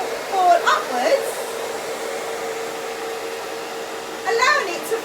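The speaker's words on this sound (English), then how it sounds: "The air from my hairdryer is pushing the ping pong ball upwards" A hairdryer blows a steady stream of air to float a ping pong ball, a continuous broadband whoosh held close and fairly loud throughout, with brief faint vocal sounds layered over it near the start and end.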